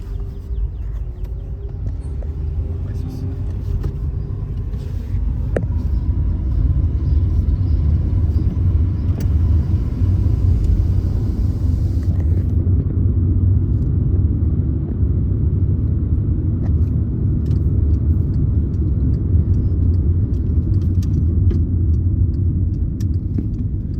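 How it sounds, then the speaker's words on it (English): A car drives a recon lap of a road race circuit in Cirligele, its engine giving a steady low rumble and road roar throughout, close and continuous with no talk. "we are making the recon of the circuit now with Andrei in the car."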